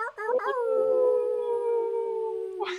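A person imitates a wolf howl with a single long, sustained voiced tone that rises and slides, then holds steady for over two seconds, loud and close with no other sounds.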